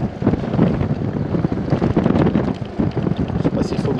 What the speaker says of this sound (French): Il y a du vent encore aujourd'hui, pas mal de vent.